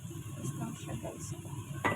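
Chicken breast with onion and carrots is stirred in a pan, making soft scraping and faint sizzling sounds for about two seconds, with a sharper clink near the end and no talking.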